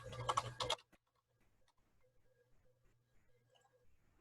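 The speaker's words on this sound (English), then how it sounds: "type google.com" Faint, sparse keystrokes on a computer keyboard tap out a web address after a brief loud burst at the start, quiet and irregular in a still room.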